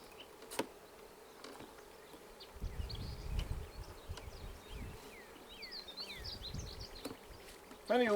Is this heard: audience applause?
no